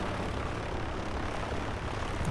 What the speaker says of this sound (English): Okay, let's line up the plane. We are taking off.